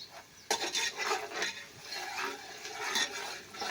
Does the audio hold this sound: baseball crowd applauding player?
no